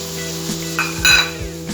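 Grated watermelon peel is stirred in melted ghee in a pan, with a spoon scraping and clinking against the metal over a soft sizzle, several quick strokes close by.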